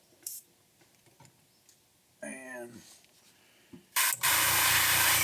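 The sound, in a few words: airbrush spraying paint onto a crankbait lure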